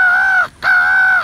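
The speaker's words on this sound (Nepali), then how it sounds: "हेर्नुहोस् कागहरू उताबाट आउन सुरु गरिसके" Two loud, sustained caws in quick succession from crows gathering nearby, the second slightly longer, close and clear with little else behind them.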